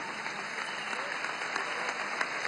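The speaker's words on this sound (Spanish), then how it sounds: "Un aplauso al vicepresidente ejecutivo, Aristóbulo" Crowd applause for Venezuela's executive vice president Aristóbulo at a large workers' event in the Poliedro arena, a steady, distant-sounding wash of clapping from a big hall that carries on evenly throughout.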